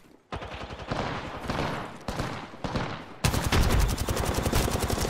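Apex Legends gunfire: rapid automatic bursts rattle in several volleys, broken by short pauses, then turn into a long, loud sustained stream of shots near the end, with no voices.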